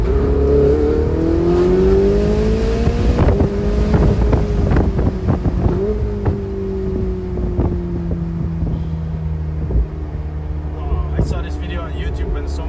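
Ferrari F80 engine droning loudly and steadily close by, its pitch rising and shifting through gears, with wind buffeting the microphone throughout.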